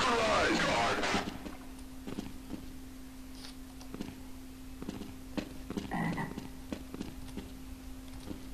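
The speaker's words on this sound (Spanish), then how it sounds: "Estoy escuchando un sapo. Una rana." Repeated low croaks from a frog in Half-Life: Azure Sheep pulse steadily over a soft ambient hum, with a brief louder burst of sound at the start.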